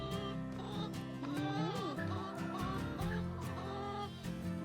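Chickens cluck and murmur continuously around the listener during morning farm chores, several birds overlapping in a busy, close coop chatter with no talking.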